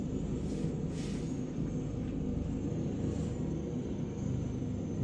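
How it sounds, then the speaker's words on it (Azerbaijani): A helicopter that has landed in a residential courtyard for a medical call runs its engine, giving a loud, steady, close rumble with a broad roar that holds evenly throughout, with no voices. "Vertolyot, helikopter"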